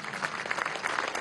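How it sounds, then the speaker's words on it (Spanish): Audience applause at a political gathering with constituent assembly members in the Poliedro arena, Caracas, a brief burst of steady clapping filling the hall. "Vamos a darle un aplauso"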